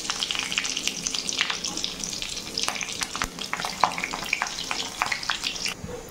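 Cumin seeds and three split green chilies fry in hot oil, giving a steady close crackling sizzle with scattered pops and light stirring scrapes throughout.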